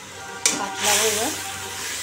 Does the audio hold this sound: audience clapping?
no